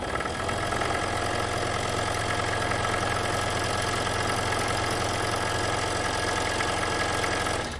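A Pegas scroll saw fitted with newly installed blade chucks runs steadily at close range, giving a continuous even motor hum with a fine buzzing rattle that holds at one loudness throughout, with no talk.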